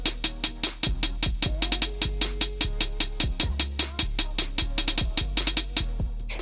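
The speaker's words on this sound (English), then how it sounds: "Then I added these hi-hats," A hard sampled trap beat loops with a punchy snare layered with a clap and fast, tightly ticking hi-hats that roll in quick bursts, all over a deep steady low pulse, loud and continuous with no talk.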